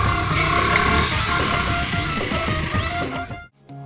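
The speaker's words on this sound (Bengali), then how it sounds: "Bike start they, bike start they." A motorcycle engine revs loudly and steadily up close, a buzzing, rattling drone that holds for about three seconds before cutting off abruptly into near silence.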